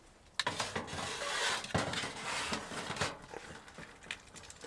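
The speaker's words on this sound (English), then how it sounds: "So I'm going to get this back on the stove." A metal pot set back onto a wood stove inside a hot tent on a winter wilderness trip, a few close clanks and scrapes of metal on metal, fairly quiet overall.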